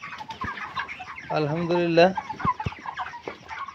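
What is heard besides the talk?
broiler chickens on poultry farm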